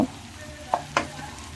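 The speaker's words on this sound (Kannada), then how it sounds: "ಈರುಳ್ಳಿನೂ ಅಷ್ಟೇ ಚೆನ್ನಾಗಿ ಎಣ್ಣೆಲಿ ಫ್ರೈ ಮಾಡ್ಕೋಬೇಕಾಗತ್ತೆ" Onions fry in oil in a pan, giving a steady soft sizzle broken by a couple of sharp stirring scrapes.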